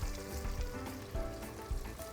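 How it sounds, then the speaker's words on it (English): Battered chicken fries in a pot of hot oil, a quiet steady sizzle with soft crackles and pops throughout, no talking. "I'm gonna batter it up, and then we're gonna start frying, okay?"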